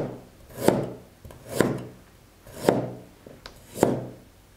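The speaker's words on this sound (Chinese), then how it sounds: "姜切片，" A knife slices ginger on a cutting board in four evenly spaced, crisp chops, close and clear with a quiet gap between each.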